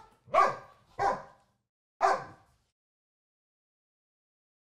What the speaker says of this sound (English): But Fiona is not a very assertive dog.